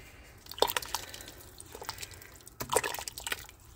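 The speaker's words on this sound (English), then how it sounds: "Give that a good stir" A pot of food with water is stirred during cooking, giving soft wet sloshes and small splashy clinks in two brief bursts, quiet and close with nothing else around.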